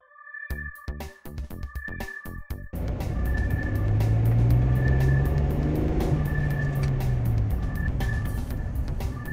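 A truck engine rumbles steadily after a few seconds of short clicks and tones, the vehicle driving across town with a loud, continuous drone that swells slightly in the middle.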